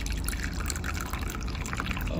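Bathing water pouring into a bucket for an acne-treatment bath, a steady close splash and dribble running continuously without speech.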